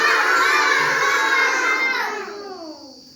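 A classroom chorus of children imitates a crow's call in one loud, sustained, overlapping cry that rings for about two seconds before trailing away into quiet.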